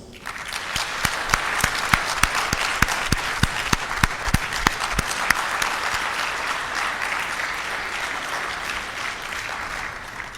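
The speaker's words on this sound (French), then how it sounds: "nous allons le saluer avec toute l'énergie et la chaleur de nos applaudissements" Audience at a government gathering applauding the Prime Minister, a steady dense round of clapping from a crowd indoors, lasting throughout at moderate level.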